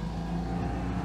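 Citroën 2CV running after a tune-up, its small engine giving a steady low buzzing hum with faint wind and road noise, moderately quiet and unbroken.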